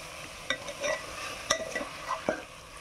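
Chicken pieces coated in turmeric stirred in a pan for chicken curry, giving scraping, clattering strokes at a steady pace with a soft sizzle underneath, close and moderately loud, with no talking.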